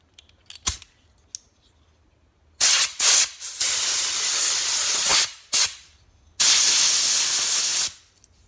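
Compressed air is blown in loud, close hissing bursts onto a handmade wooden propeller toy stick: a few small clicks first, then several long sprays separated by short pauses.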